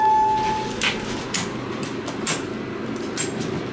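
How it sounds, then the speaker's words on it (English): A hospital elevator's sliding door closes in a steady mechanical hum, with a few soft clunks and thumps spread through the run and no talking. "Door closes."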